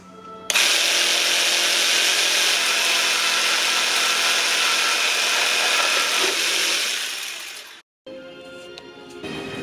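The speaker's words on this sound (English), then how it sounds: "I will drill down and countersink them so that I can cut out the hole for the plug" A power drill bores and countersinks holes for a boat's new coachroof handrails, running as a loud, close, steady whine for about seven seconds before winding down and cutting off. A lighter tool sound briefly follows.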